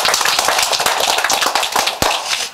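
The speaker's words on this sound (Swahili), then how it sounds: "Tumuongezee makofi mengine." An audience at a children's centre gives a burst of dense, steady applause, many hands clapping continuously at close range without pause.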